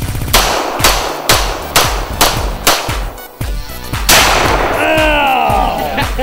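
Gunshots and reloading in the video game Project Survival: a run of sharp, loud shots at a steady beat, then a burst of metallic clicks and clatter as the magazine comes out and goes back in, with a whining tone at the end.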